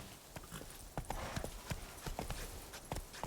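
Hoofbeats of the horse Roach trotting in The Witcher 3: Blood and Wine, a steady clip-clop rhythm of crisp, close hoof strikes over a low ambient game background, with no talk.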